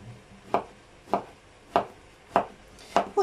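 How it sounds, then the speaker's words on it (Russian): A knife chops food coarsely on a board at home, five or six crisp, evenly spaced cuts about half a second apart, close and clear with no talking. "Вот так вот крупненько режу."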